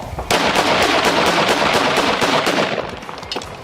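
A Ruger 57 and an FN 5.7 pistol fired together akimbo outdoors in the desert, a loud, rapid string of sharp shots that stays close and dense before easing off toward the end.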